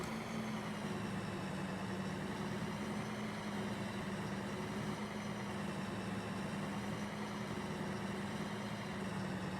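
Tractor engines idle in traffic in the Farming Simulator 2013 video game, a steady low droning hum that holds evenly throughout with no talking.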